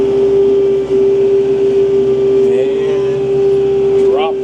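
A Kubota tractor engine held at 2,000 RPM while regrading land, a steady loud droning hum that stays constant throughout, with a person speaking over it.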